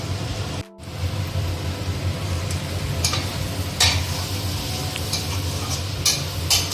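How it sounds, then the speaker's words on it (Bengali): Noodles sizzle in a hot pan while a utensil scrapes and tosses them in quick, irregular strokes, close and fairly loud. "নুন দিয়ে ভালো করে আর একটু ভাজতে হবে"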